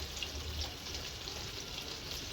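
Zinger chicken fries in oil in a pan, a quiet, continuous bubbling sizzle with no voices.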